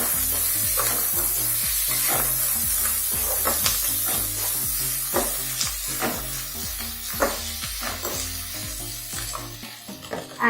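Capsicum frying in a pan for macaroni pasta, a loud continuous sizzle cut by rhythmic spatula scrapes and stirring knocks, close and steady throughout.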